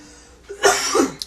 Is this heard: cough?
yes